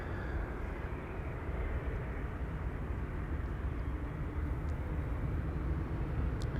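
An Air Astana Airbus A321neo airliner at Amsterdam Schiphol Airport gives off a steady, broad jet-engine roar that holds constant at moderate distance throughout.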